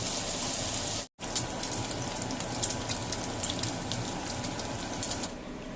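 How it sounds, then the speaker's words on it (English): Four strips of hickory smoked thick cut bacon fry in a pan, giving off a steady soft sizzle with scattered crisp pops and crackles, fairly quiet and close, broken by one brief gap near the start. "I'm cooking 4 strips of hickory smoked thick cut bacon"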